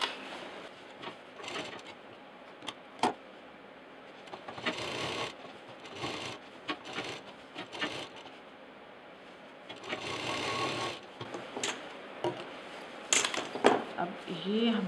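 Short bursts of sewing machine stitching on a bag come and go close by, broken up by rustling fabric and handling, with someone talking between runs.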